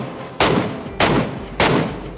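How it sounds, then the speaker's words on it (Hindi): Gunfire in the mobile game PUBG Mobile, three loud, close shots spaced evenly, each with a short trailing echo, and a fourth starting at the very end. "तभी मेरे को पीछे की साइड से साउंड आता है, गन साउंड।"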